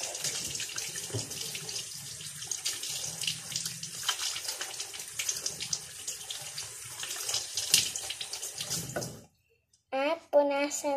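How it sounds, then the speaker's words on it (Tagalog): Tap water runs steadily into a sink during handwashing, a continuous splashing hiss that stops abruptly near the end, followed by a short burst of speech. "Hugasan nyo po ng malinis na tubig."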